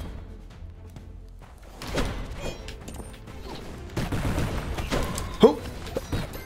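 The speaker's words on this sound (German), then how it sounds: "Schüsse." Gunfire in the video game UnderMine in bursts: a quiet stretch, then sharp cracks and thuds from about two seconds on, with one loud bang near the end over busy background noise.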